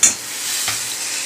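Potatoes with garlic fry in a pan, giving a brief burst of sizzling with a stirring scrape at the start and another light stir partway, the hiss continuing close and loud to the end.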